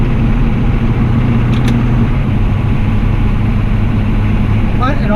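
A Hummer H1 with a turbo diesel engine drives along, giving a steady, loud, low rumble that continues throughout with a voice speaking over it.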